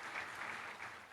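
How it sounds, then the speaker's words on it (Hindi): Quiet applause from an audience at a hospital event, a brief, even wash of clapping heard at a distance. "तो एक बार जोरदार तालियां आप सबके इस सफ़र के"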